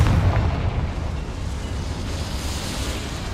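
A Confringo fire spell exploding inside a small mine in Hogwarts Legacy, a loud, deep rumbling blast that fills the whole moment and rolls on without a break, with no talk over it.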